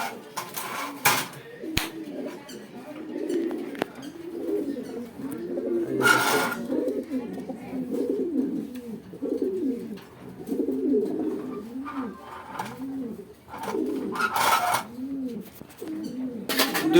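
Racing pigeons at a farm coo repeatedly in soft, rhythmic, throaty phrases, close and steady throughout, with occasional clatters and someone talking in the background.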